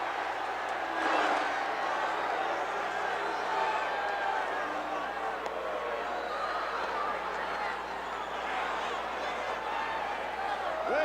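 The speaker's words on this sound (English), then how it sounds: "Listen to the roar of this capacity crowd." A packed wrestling arena crowd at a Ventura challenge roars in a steady, dense wash of cheering and shouting that fills the whole stretch, loud and continuous with no clear pauses.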